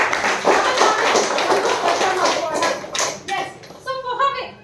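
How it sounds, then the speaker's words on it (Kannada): An audience at a direct-selling company presentation claps loudly and steadily, and the applause thins to scattered claps toward the end. "ಮತ್ತೊಮ್ಮೆ ಒಂದು ದೊಡ್ಡ ಚಪ್ಪಾಳೆ ಮುಖಾಂತರ"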